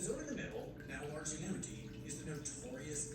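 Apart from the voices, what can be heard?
No everyday noise stands out behind the speech.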